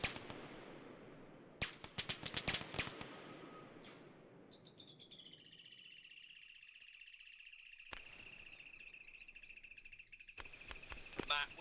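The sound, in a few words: gunfire in the video game European Tactical Realism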